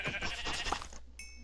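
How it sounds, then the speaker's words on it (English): A sheep bleats in the Minecraft video game, a short nasal cry over a busy, noisy game mix, followed by a brief clean tone. "I found a sheep."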